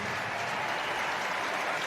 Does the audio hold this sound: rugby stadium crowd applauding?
yes